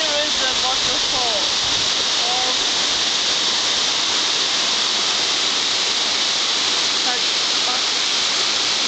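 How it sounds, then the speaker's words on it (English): Thac Bac waterfall in Vietnam, about 100 meters tall, roars as a steady, loud broadband rush of falling water throughout, with a few faint voices early on. "Here is the waterfall."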